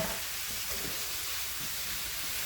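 Sausages frying in a pan while being stirred and flipped, a steady soft sizzle with faint scraping, no one talking.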